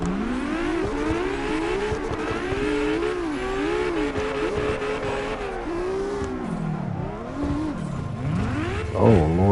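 A car revs and accelerates continuously with rising and falling engine tones, loud and close, with a brief tire squeal near the end and voices talking faintly underneath.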